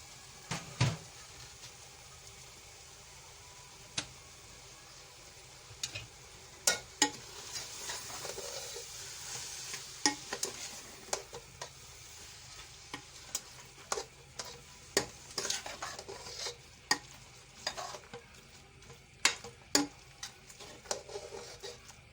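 Liver and spinach frying in a pan, kalaiji palak, with a low steady sizzle under frequent sharp clicks and scrapes from stirring, busier in the second half, no talk.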